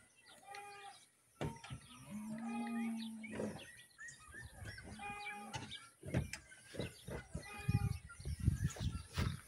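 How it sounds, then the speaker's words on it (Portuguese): Cattle on a farm moo in several drawn-out calls spread across the stretch, fairly close, with birds chirping, thuds and scattered background noise around them. "As vacas aí."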